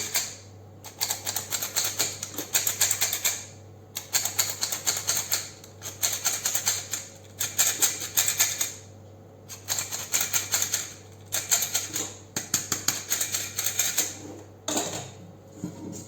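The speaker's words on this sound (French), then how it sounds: "Je vais tamiser la deuxième partie." Flour for a chocolate sponge cake is sifted through a metal sieve, giving repeated bursts of rapid rattling taps in a steady rhythm with short pauses between them, close and fairly loud, with no talking.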